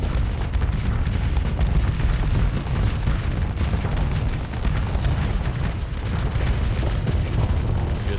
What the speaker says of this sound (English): Just keep launching missiles.